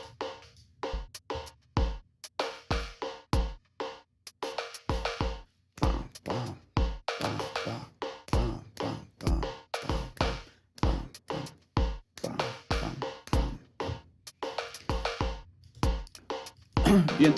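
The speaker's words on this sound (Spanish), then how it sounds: "Y entonces mi sección rítmica suena así." Synthesized drum rhythm section built on a kick synthesizer, with kick, snare and clave in a displaced 3-2 pattern; steady, dense percussive hits with deep booming kicks and sharp clicks run throughout, no talking.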